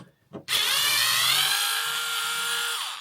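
A Black and Decker 6V handheld screwdriver backs out a screw, its small motor whirring loud and steady for about two and a half seconds after a brief click, with the pitch sagging slightly near the end.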